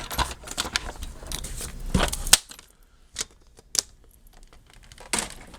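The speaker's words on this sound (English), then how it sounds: "I think that is all we need from the paper trimmer." A paper trimmer slices through paper while a junk journal folio insert is cut to size: sharp, separate cutting strokes and clicks at uneven intervals, close and alone, with quiet pauses between them.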